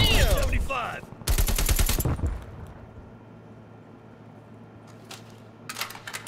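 AK rifle gunfire in a multiplayer shooter game, heard as two rapid bursts of automatic shots early on, followed by quieter ambience and a few faint later shots.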